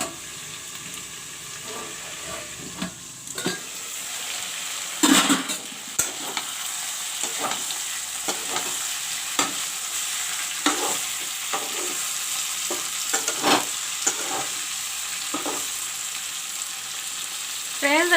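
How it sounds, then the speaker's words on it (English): Okra and potato fry in a covered pan with a steady, close sizzle, broken by repeated scraping stirs and light clinks throughout. "And I will let it fry again."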